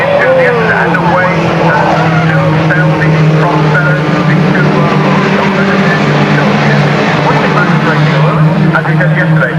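F3 race cars at Castle Combe circuit, roughly 200 horsepower, drone steadily through a continuous engine roar with a passing whine, loud throughout and overlaid by commentary speech.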